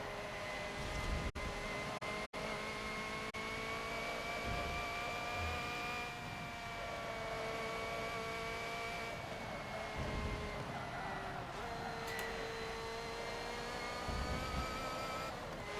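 A race car in a Le Mans racing video game, its engine whining at high revs with rising tones that drop back as it shifts up through the gears, continuous and steady at moderate level.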